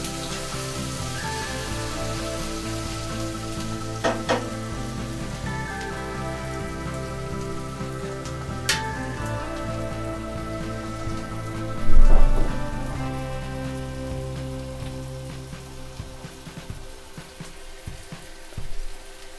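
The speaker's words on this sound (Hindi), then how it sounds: "प्याज को अच्छे से भुनना है धीरे धीरे, तो मीडियम ताप में इसको चलाकर अच्छे से भून लीजिए" Onions fry slowly in a pan over medium heat for a suran vegetable curry, giving a steady soft sizzle and hiss with occasional stirring clinks and scrapes.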